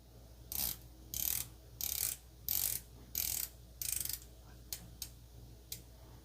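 The rotating dive bezel on a Lorier Neptune S3 watch turns in a series of crisp, close ratcheting clicks, first in six even bursts and then in a few quicker single clicks, with no voices.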